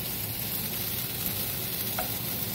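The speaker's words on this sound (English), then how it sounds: "I'm going to stir it a little bit so it gets spread throughout." Marlin a la Mexicana sizzling in a pan while being stirred, a steady frying hiss with faint scrapes and movement underneath, no talking.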